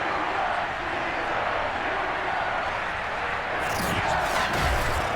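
A dense, steady roar rises from a sold-out Heinz Field stadium crowd in the Madden 22 video game. It grows a little louder toward the end, with a burst of higher cheering.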